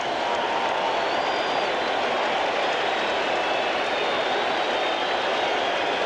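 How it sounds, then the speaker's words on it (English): Steady, distant murmur of a baseball stadium crowd at a 1986 Mets game reacting to a first-base error, a continuous broad roar without distinct cheers, holding evenly throughout. "A little crowd reaction now to error first base being put up on the scoreboard"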